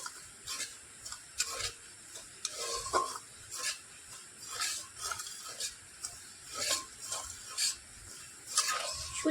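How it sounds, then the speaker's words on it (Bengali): Semolina dry-roasting in a pan as it is stirred gently, giving repeated soft scraping and ticking strokes in an irregular rhythm, close and fairly quiet, with no talking. "হালকা হাতে নাড়াচাড়া করে সুজিটাকে একটু হালকা লালচে করে ভেজে নেব।"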